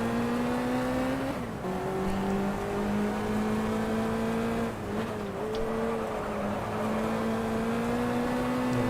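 A race car engine in the GT Legends sim racing game holds a steady high drone, dipping briefly twice as the revs drop and climb again through corners, loud and continuous with no talk.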